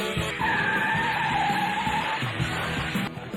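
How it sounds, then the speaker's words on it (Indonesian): Tamiya mini 4WD race cars speed through a zigzag corner at the Super Great Japan Cup tournament, a loud, continuous high-pitched motor whine over a dense rushing roar that cuts off abruptly near the end. "Kedua mobil memasuki tikungan zigzag."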